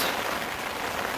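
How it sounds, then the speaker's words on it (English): Rain patters steadily on a tarp shelter on a backpacking trail, a dense, even hiss of drops close overhead. "it's raining again"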